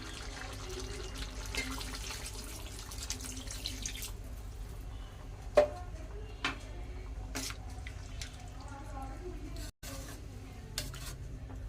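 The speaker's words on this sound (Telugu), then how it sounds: "వాటర్ కూడా ఇప్పుడే పోసుకుందాం" A steady stream of water pours into a pot of mutton curry, with occasional clinks of metal against metal and no talking.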